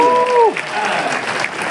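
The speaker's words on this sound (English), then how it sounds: "give yourself a round of applause" Convention panel audience at FanX Salt Lake City breaks into applause, a dense crowd of clapping that swells and carries on steadily after a voice fades out at the start.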